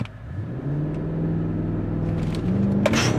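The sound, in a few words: Mercedes-AMG GLE 63 S V8 launch control acceleration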